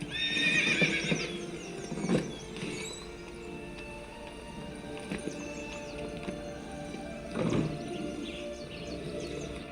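A horse in The Witcher 3 video game gallops with quick, steady hoofbeats and lets out loud whinnies near the start and again later, with faint ambient game sounds around it.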